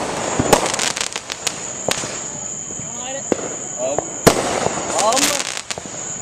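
Fireworks cakes going off outdoors, a string of sharp cracking bangs and pops at uneven intervals over a steady hiss, loud and close, with people's voices in the background.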